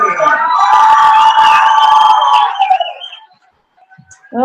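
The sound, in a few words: crowd cheering at weigh-ins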